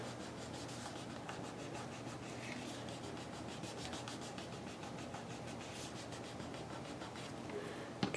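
A paper pocket is glued down and rubbed flat in a handmade journal, producing a steady, close, dry rubbing of hand on paper that continues evenly throughout, with a small tap at the very end.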